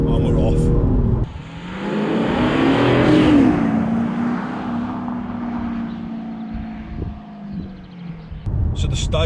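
An Audi A6 Avant 3.0 V6 BiTDI diesel accelerates hard out of a long corner, its engine note rising steadily and loud from inside the car with wind noise, then easing off, with talk at the start and end.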